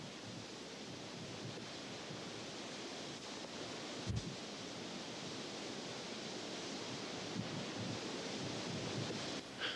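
Ocean waves wash over a fresh lava flow at Kilauea during its 1995 eruption, a steady distant surf roar mixed with wind buffeting the microphone, with no talking.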